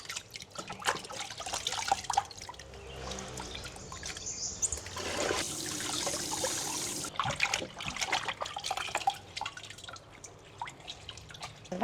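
Water running and splashing while fish maw is rinsed and washed by hand, with irregular drips and trickles, a louder rushing flow midway, and close handling noises, no talking.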